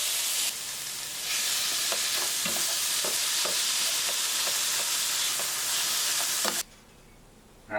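Pork carnitas sizzle loudly on a hot griddle with a steady frying hiss, broken by repeated scraping and tapping of a spatula, before the sizzle cuts off near the end.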